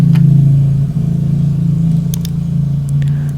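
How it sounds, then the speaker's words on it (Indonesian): Outside, a motorbike drones past as a steady mid-pitched engine hum, moderately loud and fairly close, fading slightly toward the end; a few faint clicks sit over it and no one speaks. "ntar motor lewat."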